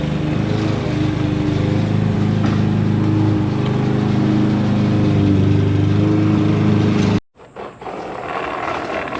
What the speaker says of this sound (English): The husband came back with the lawnmower.